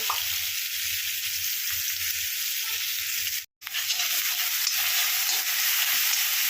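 Mustard seeds with crushed ginger and garlic fry in a hot pan, a loud, continuous crackling sizzle heard up close, broken by a brief dropout of silence midway.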